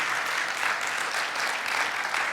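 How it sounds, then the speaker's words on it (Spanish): A church congregation claps in praise to the Lord, a dense, steady wash of many hands applauding together, loud and sustained throughout. "Dale un aplauso de alabanza al Señor"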